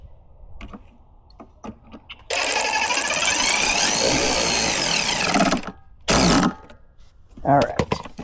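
A Shark robotic pool cleaner, freshly fitted with a new drive belt and gear, runs with a loud, steady broadband whir for about three seconds, then a short second burst follows, with clicks and brief handling noises around it.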